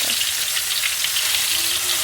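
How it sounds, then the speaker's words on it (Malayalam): Steady crackling sizzle of chicken frying in hot oil in a pan, loud and close, continuing without pause. "ഇനി ചട്ടികൾ തന്നെ ചിക്കൻ പൊരിച്ചെടുക്കാം."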